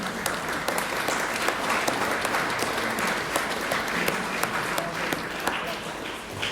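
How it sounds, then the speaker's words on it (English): Crowd claps for all mothers at a Mother's Day gathering, a sustained dense round of many hands with sharp individual claps standing out, steady and moderately loud throughout. "Yes, an applause for all mothers."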